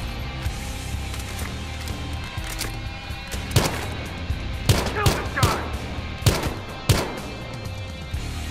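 Gunfire from a weapon in the Battlefield Hardline game, a series of sharp shots over a busy, noisy game mix, with single reports and short bursts spread through the stretch.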